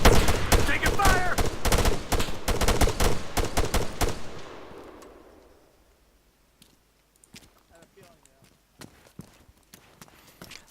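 Heavy gunfire in a multiplayer video game firefight, dense overlapping bursts of rapid shots that gradually fade out, leaving scattered distant pops and quiet, with voices talking over it.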